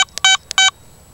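Two short bursts of beeping tones from a Garrett ATX metal detector, each lasting about a tenth of a second and sounding loud and close, with quiet gaps around them.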